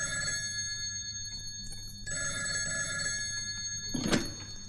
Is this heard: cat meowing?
no